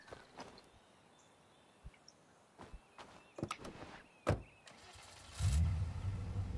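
A car in the video game State of Decay, with a few sharp clicks and knocks from doors and footsteps, then the engine turns over and settles into a low, steady idle, all fairly quiet.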